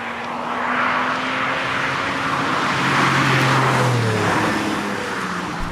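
A Porsche 996's engine drones and rises through a sports exhaust as the car drives by, a low steady exhaust note under road noise, with no talking.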